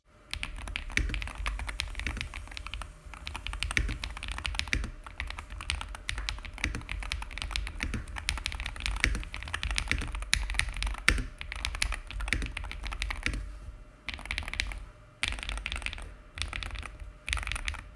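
Typing on a Pulsar PCMK 2 HE TKL keyboard fitted with Gateron Z Pro switches, rapid close clacking keystrokes in dense bursts with a few short pauses, heard without speech.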